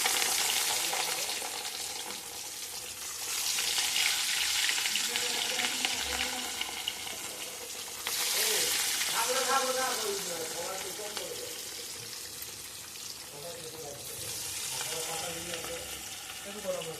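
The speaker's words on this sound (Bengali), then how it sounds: "তেলটা গরম হয়ে গেছে, মাছটা ছেড়ে দিলাম।" Fish frying in hot oil, a close, broad sizzle that swells in waves as pieces go in and settle, with clattering kitchen activity and faint voices in the background.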